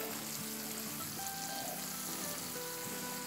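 Food sizzles and fries steadily in a pan while it is stirred gently, a quiet continuous crackle with soft scraping strokes and no talking.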